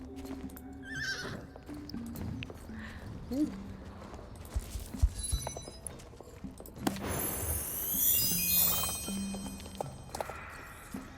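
Pony hooves clip-clop through a Star Stable Online race in the Forêt furieuse, steady and close, with whinnies and neighs, sweeping game effects and music layered over the walking rhythm.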